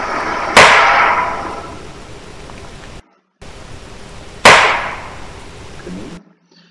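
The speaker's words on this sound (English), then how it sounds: "A wood knock that I have made on a cedar, right next to the small structure." Two sharp wooden knocks struck on a cedar tree beside a small structure outdoors, each a single loud crack ringing out into the woods, spaced about four seconds apart against a steady background hiss.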